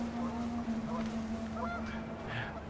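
Panicked geese honking in the video game What Remains of Edith Finch, faint scattered honks over a steady low hum and background noise.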